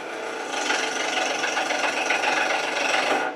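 Spindle roughing gouge taking a planing cut on wood turning on a lathe, a continuous hissing, shearing rasp that swells in after a moment and holds steady before tailing off.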